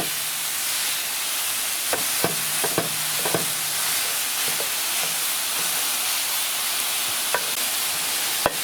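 Ground beef, onions and dried peppers fry in a cast iron pan, a steady bright sizzle and hiss of steam punctuated by several sharp clicks and scrapes of a utensil stirring.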